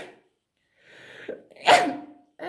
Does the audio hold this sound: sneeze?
yes